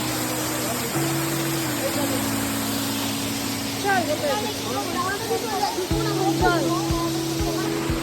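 The Kynrem waterfall in Cherrapunji, Meghalaya, makes a constant broadband rush of falling water, moderately loud and unbroken, while people talk over it and a low steady hum runs underneath.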